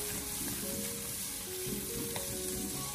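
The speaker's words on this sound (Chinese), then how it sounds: "将肉丁炒出油脂后，接着再往里面添加一勺蒜蓉辣椒酱，然后再继续的将它翻炒一小会" Diced pork and garlic chili sauce stir-frying in a hot wok, a steady loud sizzle and crackle with occasional scrapes of the spatula, close up and with no talk.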